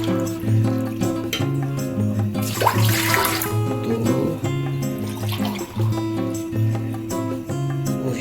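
Water is poured from glasses into a pressure cooker holding rice for beef yakhni pulao. It comes as a short, splashy gush midway through, under steady background music.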